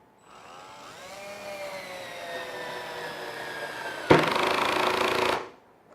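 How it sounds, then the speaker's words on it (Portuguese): A cordless screwdriver with a Phillips bit drives a screw into a pre-drilled wooden batten at torque setting 1: a rising motor whine runs for about four seconds, then the clutch slips into a loud, rapid ratcheting rattle before stopping, close up. "a catraca que tem aqui dentro, quando a pressão superou a do parafuso, ela liberou a catraca"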